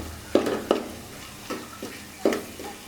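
Ingredients for chicken biryani sizzle and get stirred in a pan, with several sharp scraping strokes of a utensil over a soft, steady frying hiss.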